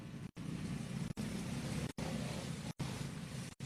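Race cars rush down the front straightaway at the Elkhart Grand Prix, a loud, steady engine roar broken by several brief gaps.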